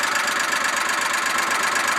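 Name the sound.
Polaris Ranger engine running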